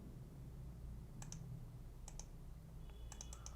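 A computer mouse gives three quick double clicks while working in CATIA V5 CAD software. The crisp paired clicks are close and quiet over faint room hum.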